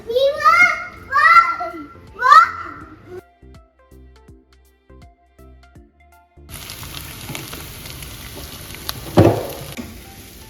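A child chatters briefly, then mustard seeds hit hot oil in a steady, crackling sizzle, with a louder pop near the end.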